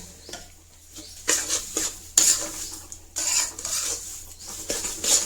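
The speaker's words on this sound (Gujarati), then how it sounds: "હવે આપણે કઢાઈ ગરમ છે ને તો એમાં આપણે આ ગોળને મેલ્ટ કરી લેવાનું છે." Jaggery melting and being stirred in a hot kadai, with a spoon repeatedly scraping and rubbing against the metal in uneven strokes, close and fairly loud, no talking.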